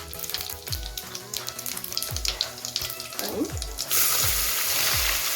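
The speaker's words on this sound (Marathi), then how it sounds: "तर तेल थोडस गरम होऊ दे गॅस मी लोस ठेवलाय आपण जिरं टाकूया पहिले" Cumin seeds hit hot oil in a pan for pav bhaji, a steady close sizzle with soft stirring clatter, swelling into a louder, denser crackling hiss near the end.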